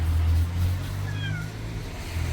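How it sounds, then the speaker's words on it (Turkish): Cats meow a few times in the background during work on a lithium iron phosphate leisure battery. The short, fairly faint calls ride over a steady low hum, with no talk. "kediler var orada"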